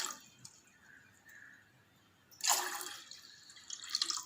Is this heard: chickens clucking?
no